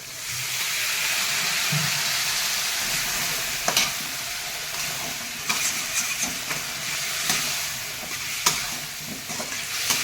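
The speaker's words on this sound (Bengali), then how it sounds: "মশলা দিয়েছি অল্প একটুখানি জল দেব" Spices with Kashmiri chili powder sizzle in a pan as a little water is poured in for a Bengali potato and prawn chorchori, giving a steady close hiss with stirring scrapes and a few sharp clicks.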